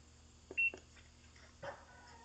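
A single short electronic beep from a portable washing machine control panel as start is pressed, followed by faint clicks and a soft thump in a quiet room.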